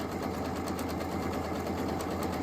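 A sewing machine stitches along the flange of a Christmas placemat. The fast mechanical whir runs close and unbroken for the whole moment, and nobody speaks.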